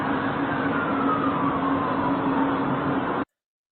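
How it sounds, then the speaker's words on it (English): Emergency vehicle sirens wail over a steady band of traffic noise, one siren tone sliding slowly downward, then the sound cuts off abruptly. "there they are, sirens."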